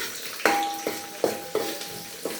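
Tomatoes sauteing in a pan with a soft sizzle, broken by several sharp clinks and scrapes of a utensil stirring against the pan at an uneven pace, close up and with no talk.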